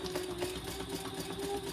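A sewing machine runs steadily, basting layers of fabric for a hobo shoulder bag, its rapid needle stitching forming a continuous close, even hum with no talk over it.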